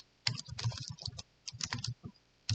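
Bursts of typing on a computer keyboard, close and crisp, with rapid clustered keystrokes separated by short pauses.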